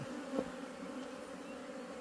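Honeybees in a hive colony fill the air with a dense, steady buzz, close and moderately quiet, humming continuously without voices.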